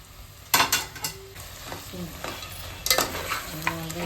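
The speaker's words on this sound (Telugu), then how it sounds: "టమాటా కూడా కొంచెం వేగాయి కొంచెం ఉడుకుతున్నాయండి బాగా" Mutton curry with tomatoes and chilli powder frying in a pan, with scattered scraping stirs and clatters over a low, steady sizzle, close by and moderately loud, no talking.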